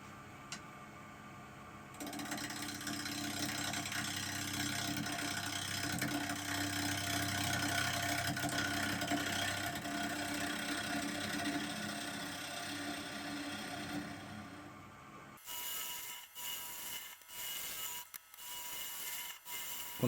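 A chisel cuts into a spinning eucalyptus natural edge bowl on a wood lathe, giving a steady rough scraping hum under the motor drone that ends in a few short rhythmic cuts.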